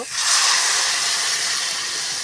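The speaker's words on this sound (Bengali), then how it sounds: "এবার আমি জল দিয়ে দেব" Water poured into a hot pan of cooked vegetarian curry with fried lentil dumplings bursts into a loud, broad steaming hiss that holds steady for a couple of seconds, close and alone.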